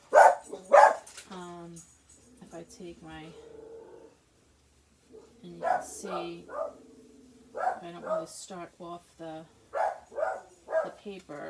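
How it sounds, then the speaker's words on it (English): A pet dog barks a few times in a home craft room where paper is being embossed, the short sharp barks near the start and mixed in with steady talking from a woman throughout. "that's my dog barking"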